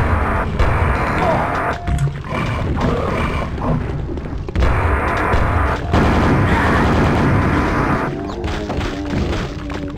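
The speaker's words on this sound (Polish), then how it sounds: "Zespamujemy tutaj wszystko eksplozjami." Rapid, repeated explosions in the Quake video game: a dense barrage of booms and thuds with crashing debris, loud and continuous, with brief gaps between bursts.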